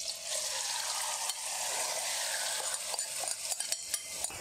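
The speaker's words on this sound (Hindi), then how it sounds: "अब इसमें हम मैरिनेट चिकन डाल देंगे।" Marinated chicken hits hot oil, about three tablespoons, in a pan and sizzles steadily, with a few clinks and stirring scrapes near the end, close and moderately loud with no talking.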